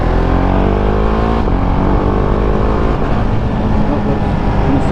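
Husqvarna Svartpilen 701 motorcycle engine revving loudly and steadily up close, with a gear shift through the quickshifter that doesn't engage cleanly, the droning pitch stepping and holding throughout.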